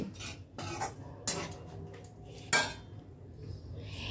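Fried soya chunks tossed with vinegar and soy sauce are stirred in a pan, sharp spoon clanks on metal at intervals over faint background sizzle.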